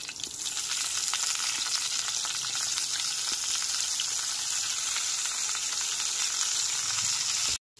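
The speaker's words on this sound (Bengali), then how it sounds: "মাছ ভাজার ওই একই তেলের মধ্যে দিয়ে দিচ্ছি লবণ ও হলুদ মাখানো বেগুনগুলো।" Eggplant pieces coated in salt and turmeric frying in the same oil just used for hilsa fish, a loud, steady hiss of sizzling that runs without a break and cuts off abruptly at the end.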